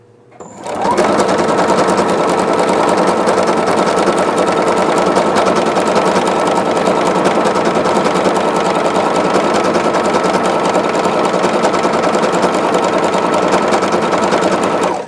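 Singer Quartet 6000 sewing machine stitching with Sulky metallic thread, a loud, steady, continuous whirring hum that starts after a brief pause and runs unbroken to the end.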